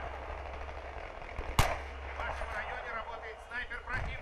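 A single sharp sniper rifle gunshot from Battlefield 3 cracks out amid ongoing chatter and background game noise, with a few fainter pops afterward.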